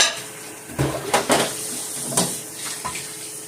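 Dishes, pots and cutlery are washed at a sink, with running tap water hissing steadily under irregular close clanks and clinks of metal and crockery knocking together.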